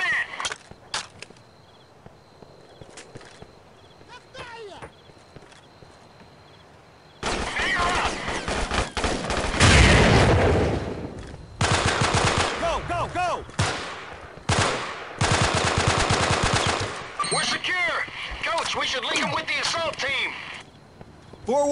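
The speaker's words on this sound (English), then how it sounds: "Taking fire!" Gunfire in the video game Delta Force: Black Hawk Down, dense bursts of rapid shots filling most of the stretch after a quieter start, loud and sustained with brief gaps, and game voices calling out over them.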